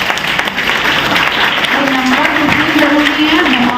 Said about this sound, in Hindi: जरूर ताली बजाइए